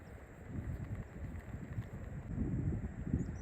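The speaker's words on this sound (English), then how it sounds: "As you can see, it's picked up pretty windy." Gusty wind buffeting and roaring against a tent at a summit camp in the Lake District, in uneven surges, close and fairly loud, rising in strength toward the end.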